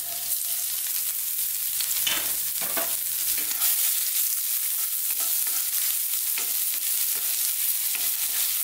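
Chopped ginger and garlic hit very hot oil in a Chinese wok, giving a loud, steady, hissing sizzle that runs throughout, broken by quick stirring scrapes.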